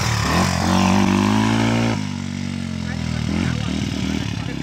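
Yamaha engine revving hard while being pushed to blow up, a loud rising and falling motor roar with pitch sweeping up and down, close by, and voices mixed in.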